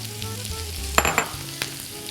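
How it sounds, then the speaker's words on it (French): Chopped onions hit hot oil in a pan while lamb meatballs cook alongside for an amatriciana sauce, giving a steady close sizzle with a few sharp stirring scrapes and clinks, and no talking. "dans notre huile, on va rajouter les oignons hachés"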